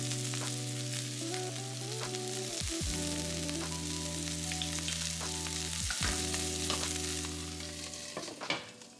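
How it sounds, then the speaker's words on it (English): Kale sizzles and fries in olive oil in a pan, a continuous close crackle with occasional stirring scrapes over a steady background hum. "I'm just gonna saute the kale on the other side of the pan with a little bit of olive oil."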